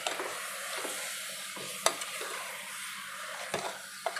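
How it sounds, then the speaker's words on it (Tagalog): Mutton sizzling and frying in a pan while being stirred, with a steady hiss under scraping strokes and occasional sharp clinks of the utensil against the pan. "Ngayon, isunod ko na yung muton. Ayan, ihalo na natin."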